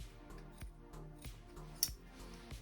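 Scissors cut through balaclava fabric in a quiet room, giving a steady run of about five soft rhythmic snips with a faint metallic click partway through.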